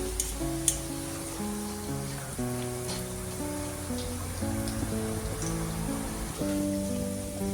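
Dal baati frying in hot oil, a steady soft sizzle and crackle of bubbling oil under quiet background music, constant throughout.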